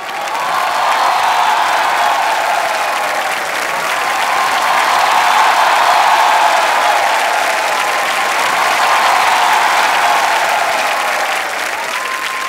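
Studio audience on a comedy talk show giving loud, sustained applause to welcome Deepika Padukone, dense clapping with faint cheers that swells and holds steady throughout.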